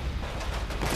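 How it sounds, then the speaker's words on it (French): Gunfire from the Wii Remote's built-in speaker while playing Disaster: Day of Crisis on the Wii, a steady, dense crackle of shots that runs without pause for the whole second at moderate loudness. "Le son des coups de feu est encore dans la"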